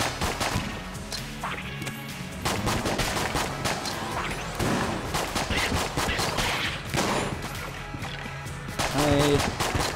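Pistol fire in Enter The Gungeon comes as rapid, loud bursts of shots. They overlap with busy game effects and music, with brief quacking-like blips near the end and no talk.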